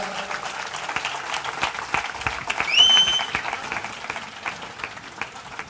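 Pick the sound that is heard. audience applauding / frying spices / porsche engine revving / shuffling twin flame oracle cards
audience applauding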